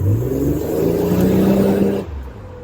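A Buick Grand National engine held at wide open throttle, a loud close roar with a steady droning tone for about two seconds, then dropping abruptly to a lower idle rumble.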